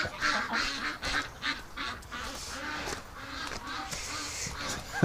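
Several female ducks call over a wintry yard, giving rapid, overlapping raspy quacks and chattering notes, close and continuous.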